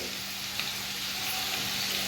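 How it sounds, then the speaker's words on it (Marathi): Hot oil sizzles and crackles steadily at close range as crushed garlic cloves fry, a continuous frying hiss with a low hum beneath. "तेल पण छान गरम झालंय फोडणीला आता लसूण घालते"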